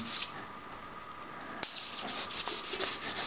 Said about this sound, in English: let's take our sanding board and just kind of give it a quick sanding